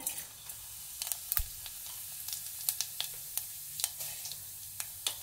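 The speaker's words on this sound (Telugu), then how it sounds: "ఆవాలు, జీలకర్ర, మెంతి గింజలు అయితే వేసుకున్నాను" Mustard, cumin and fenugreek seeds sizzle in hot oil for a brinjal-tomato curry, a faint steady crackle broken by scattered sharp pops and spits, with no voices.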